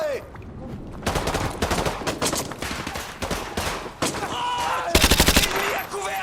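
Rapid automatic gunfire in the video game Call of Duty Modern Warfare 2 Remastered, loud bursts and sustained rattling volleys in an urban firefight, with shouted voices between them.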